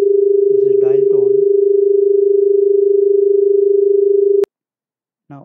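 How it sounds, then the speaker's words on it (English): An Indian telephone dial tone plays as a continuous, steady, modulated hum for about four and a half seconds, then cuts off abruptly into silence. Someone speaks briefly over the tone near the start and again at the very end. "This is a continuous tone. This is dial tone."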